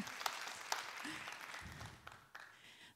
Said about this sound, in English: So you can clap for that.